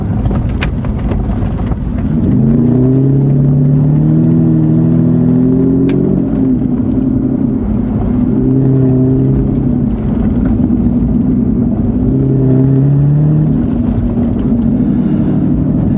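A powerful Aston Martin engine revs and rumbles continuously, pitch rising and falling through several throttle blips, loud and close throughout.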